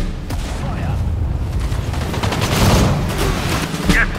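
Rapid gunfire and machine-gun bursts in the WWII strategy game Sudden Strike 4, Battle of the Falaise Pocket, crackle densely and loudly throughout, with booms and voiced unit commands mixed in.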